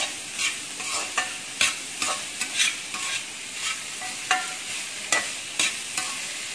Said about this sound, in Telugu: ఉప్పు వేసి కలపాలి.